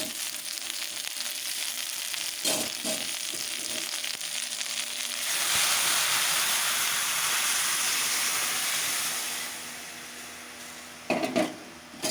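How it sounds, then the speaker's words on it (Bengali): Dal fries with spices in a pan for a vegetable dal, a continuous close sizzle with scraping stirs and utensil knocks, swelling louder in the middle before easing off, with no talking. "তো মশলার সাথে আমি এটাকে ভাজি করে নিচ্ছি।"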